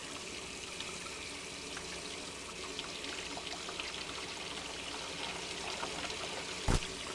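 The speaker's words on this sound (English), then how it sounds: "put the hot water in this bowl" Hot tap water pours steadily into a bowl in a home kitchen, a continuous broadband hiss and splash with no talk over it, ending in a brief sharp knock.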